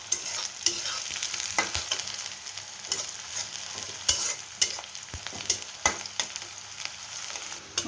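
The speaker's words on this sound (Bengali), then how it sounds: "দিয়ে দেব কেটে রাখা, ছোট ছোট করে কেটে রাখা 3টে কাঁচামরিচ।" Chopped green chillies fry with onions in a pan for a spicy cauliflower bhuna, giving a steady close sizzle with sharp stirring clicks and scrapes at irregular intervals.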